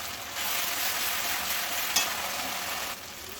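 Masala with turmeric, salt and sugar sautés in hot oil, a loud, steady close-up sizzle and stirring hiss that runs without a break and eases slightly near the end.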